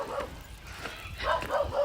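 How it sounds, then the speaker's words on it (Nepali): A household dog barks a few times in short, rough bursts at moderate distance over low background noise, with the barks growing more insistent toward the end. "फेरि कुकुर भुकेछ हाम्रो घरको कुकुर"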